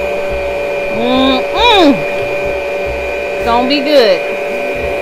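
A steady electric hand mixer whirs through pound cake batter made with flour and Sierra Mist, running continuously with a bowl being scraped while a person talks over it.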